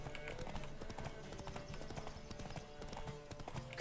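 Rapid galloping hoofbeats of a horse in The Witcher 3 video game, a steady driving clip-clop rhythm that runs throughout at moderate loudness over busy game sound.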